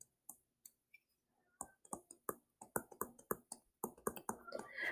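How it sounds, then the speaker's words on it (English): Pen tapping and scratching on paper while math is written out, a series of sharp close clicks that speed up into a denser run of strokes, with no talk. "So let me write that."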